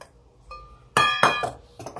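A camping frying pan with folding handles is handled up close, producing a faint tap and then several bright metallic clinks and rattles that ring briefly, with no talk.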